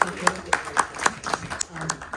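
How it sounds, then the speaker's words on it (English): Applause from an audience at a membership meeting and Off-Broadway panel, heard as faint, evenly spaced claps under a person talking. "so I think a big applause for her"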